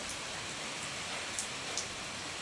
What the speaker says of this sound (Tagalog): Raining in the province ngayon.